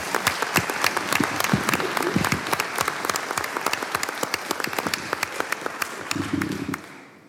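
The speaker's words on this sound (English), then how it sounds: "Let's give our students a quick round of applause." An audience at a Board of Education meeting applauds students with a burst of many hands clapping, full and sustained before tapering off at the close.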